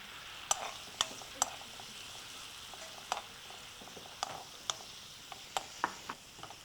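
Spinach kootu with tomato simmers and sizzles softly in a pan, a low steady hiss broken by scattered clinks and taps of a spoon stirring against the metal.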